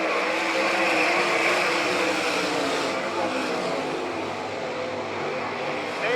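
Dirt-track race cars from a Nebraska All Stars versus NCRA event roar steadily through turns three and four, a continuous mid-distance engine drone with a slight dip and swell, distant crowd wash behind.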